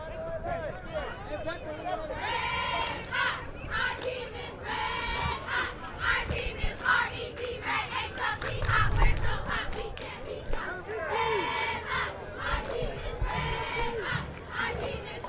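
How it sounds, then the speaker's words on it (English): Crowd at a De Anza versus Galileo football game chanting and cheering along with the cheerleaders, rhythmic shouted bursts repeating over a continuous stadium roar, loud and close. "Deanza cheerleaders, led by Tina McCarthy, doing a great job for the Dons, leading the crowd in the cheers"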